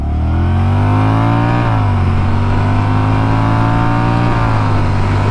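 A 2021 Honda Rebel 1100 DCT motorcycle at full throttle, its close, loud engine note climbing steadily, dipping briefly at two automatic gear shifts, then rising again.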